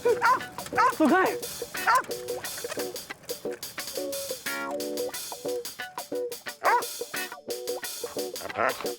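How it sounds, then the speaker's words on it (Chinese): A small dog yips, whimpers and barks in short bursts, close by, while people talk over it in a domestic TV drama scene. "乖狗狗"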